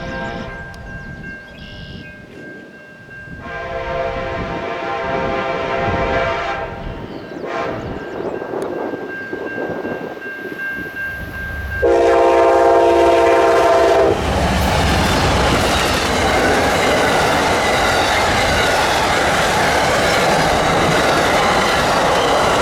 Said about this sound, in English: The train to finally break our dead streak was Amtrak 49 with a lovely Phase 5 P42 duo